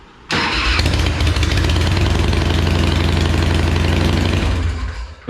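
A chopper motorcycle engine, just cranked, roars into a steady loud run close by, with strong low rumble and a busy high rattle, holding evenly for about five seconds with no talk.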